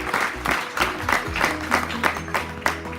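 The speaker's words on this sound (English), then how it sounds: "a big round of applause for everybody" Applause for graduates at a trade training centre graduation, a crowd clapping steadily and unevenly throughout at a moderate distance, with a low hum beneath.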